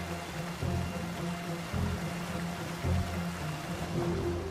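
Steady rushing water from a mountain stream swollen by light rain in an Arabian valley, a continuous broadband wash with low churning pulses, close and unbroken, with no voices.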